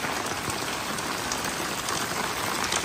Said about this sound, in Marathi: खूप पाऊस पडतो आहे, खूप म्हणजे खूप पाऊस आहे